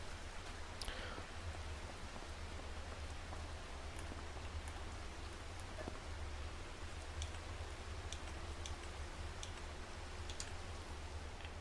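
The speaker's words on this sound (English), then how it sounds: "The rain should stop any minute here." Rain falls steadily in the farming game Farming Simulator 25, a soft, even hiss with scattered faint ticks of drops, continuous and fairly quiet throughout.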